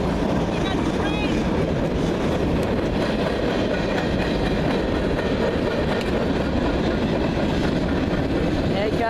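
A train rolls loudly and steadily past the Olde Town Gaithersburg station, with a continuous rumble and rattle of wheels on rails filling the whole span, close by and dominant.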